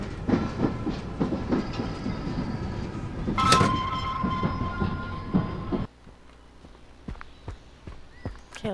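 A train rolls along in the game Zompiercer, giving a rumbling, clattering run with a brief brighter screech midway before the noise drops to a quieter ticking and clicking near the end.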